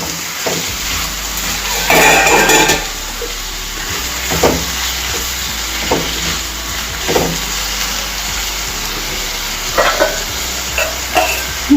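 Salted raw banana pieces stirred in a pan for a South Indian fry, repeated scraping strokes of a spatula with a loud burst early on, under a steady background sizzle.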